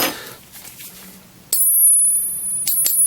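Hardened steel hole punches clink together, giving a bright, sustained high ring that rings out twice in quick succession.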